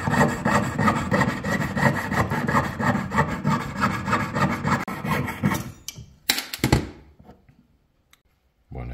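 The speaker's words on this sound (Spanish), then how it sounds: "Ahora lo voy a cortar para que lo vean." A long, dense rasping stretch of twisted jewelry wire being cut or worked for a Hindu-style weave, steady and close, then breaking into a few sharp clicks before falling quiet.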